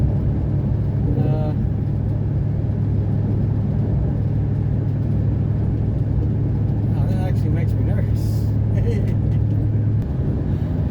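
A Ford F-150 pickup with a 5.4L engine is driven with suspension problems. A steady low road rumble fills the cab, with faint knocks and rattles and a short spoken remark over it.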